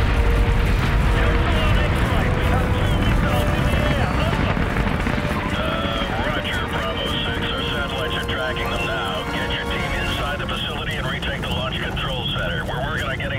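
A missile launch in the shooter game Call of Duty: Modern Warfare Remastered comes through as a sustained, loud, roaring rush mixed with battle noise, while voices talk over it throughout.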